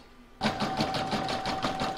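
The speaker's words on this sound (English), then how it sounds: "I'm going to pop that into my machine and I'm going to stitch round number 5, which is going to do the quilting in the spoke" An embroidery sewing machine stitches a quilting round on a heart-patterned placemat, a steady, rhythmic rapid needle chatter starting abruptly and running continuously, close and moderately loud.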